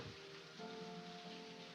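Steady rain falls in a continuous, even hiss with a faint low rumble beneath it and no voices.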